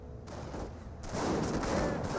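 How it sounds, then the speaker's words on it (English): Rifle grenades fire in the WWII strategy game Company of Heroes, a dense rumble of gunfire and explosions that swells louder and thicker about halfway through. "Rifle grenades are firing."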